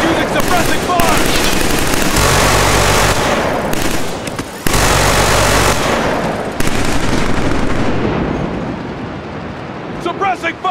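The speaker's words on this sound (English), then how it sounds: "Target using suppressing fire!" Dense, sustained machine-gun suppressing fire in the video game Killzone 3, loud and continuous bursts that thin out toward the end while voices call out over the din.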